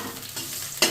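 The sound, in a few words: frying eggplant and pointed gourd in oil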